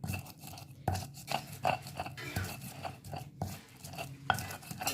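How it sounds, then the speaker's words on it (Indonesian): Spices are pounded and ground in a stone mortar (ulek) for karedok, giving irregular close knocks and gritty scraping strokes at a quiet level, with no talking. "Bumbunya diulek ya semuanya sampai halus."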